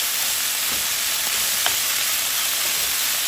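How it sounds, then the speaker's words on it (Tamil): Ponnanganni greens fry in a pan with a steady, close broadband sizzle, a few faint clicks of a utensil breaking through the constant hiss. "பொன்னாங்கண்ணி வறுத்து கொண்டிருக்கு"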